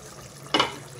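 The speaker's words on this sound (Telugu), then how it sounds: "ఇంకాస్త వాటర్ పోనిద్దాం." Water is poured into a pot of simmering meal maker and gongura curry, a single short, soft splash over a faint background hum.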